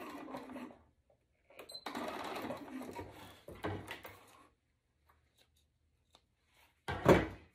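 A sewing machine stitching an X and straight lines on a corset with a shelf bra runs in short, quiet bursts with pauses, followed by a louder clack near the end.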